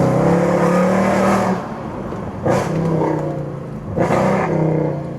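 Mercedes C63 AMG V8 fitted with cheap aftermarket headers, revved hard in a long loud burst, then two sharp blips with the engine settling to a rumbling idle between them.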